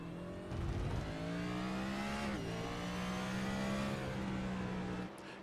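A race car engine drones from the in-car view in iRacing at the COTA stadium section, holding a steady high pitch that climbs and dips slightly through gear changes before cutting back near the end.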